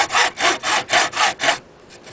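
A handsaw cuts through wood for a carved propeller in six even back-and-forth strokes, loud and close, then stops abruptly into near silence.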